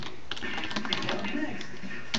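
Rapid clattering keystrokes on a computer keyboard as code is typed, a steady close patter of clicks that runs throughout.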